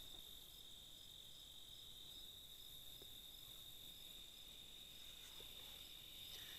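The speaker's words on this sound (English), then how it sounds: "Cicada, perhaps you can hear." A steady high-pitched insect buzz of a cicada drones continuously in the distance over quiet background hiss, on a prairie trail near sunset.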